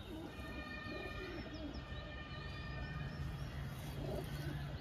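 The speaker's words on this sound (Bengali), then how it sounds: "এত সস্তা এই ম্যাড্রাস জিরিয়া হোমার ম্যাড্রাস পায়রা" A Madras homer pigeon coos softly at a pigeon market, giving low, throaty coos under steady background noise and faint chirps from other birds.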